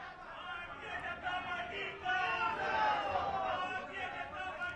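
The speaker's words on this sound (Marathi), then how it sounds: "हा कार्यकर्त्यांचा जल्लोष पाहतो आहोत" Party workers celebrating a Maharashtra assembly election victory, a crowd of cheering and chattering voices that swells louder midway, heard at a moderate distance as a broad, continuous hubbub.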